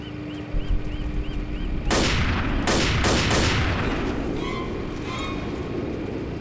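Rifle gunfire in the zombie shooter Left 4 Dead, four sharp, loud shots fired in quick succession, each with a ringing echo, over a steady ambient background with no talk.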